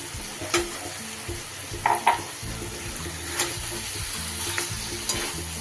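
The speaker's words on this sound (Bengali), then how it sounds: "এইবার দিয়ে দেব আমি আগে থেকে ম্যারিনেট করে রাখা চিকেন" Marinated chicken goes into hot, oil-separated spice masala for chicken dopeyaza. A steady, close sizzle continues throughout, broken by occasional clinks and scrapes of stirring.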